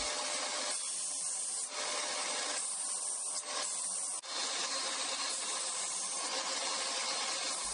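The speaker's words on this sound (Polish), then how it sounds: "No i wstępnie szlifujemy." A wood and resin teddy bear gets its first rough sanding, a steady close abrasive rasp that runs almost without pause, dipping briefly a few times as the strokes shift.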